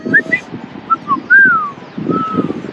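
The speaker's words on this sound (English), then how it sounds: "Look at those birdies. Seagull. Seagulls." Gulls calling over a Tunisian fish market: several short, clear high cries and one longer drawn-out call, with crowd murmur and voices underneath.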